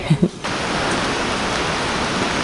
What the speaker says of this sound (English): now rain is just stronger